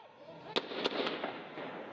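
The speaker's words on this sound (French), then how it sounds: "Des explosions et des tirs retentissent devant l'hôtel Splendide" Explosions and gunfire outside the Splendid hotel during a jihadist attack, heard as several sharp, distant bangs spaced over two seconds above a faint, noisy background.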